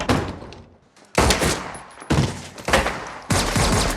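Gunfire from a film shootout rings out in several loud, sharp bursts of rapid shots separated by brief lulls, each volley cracking close and echoing.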